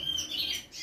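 Soft, high-pitched chirps and squawks from very young pet show birds, continuous and fairly faint.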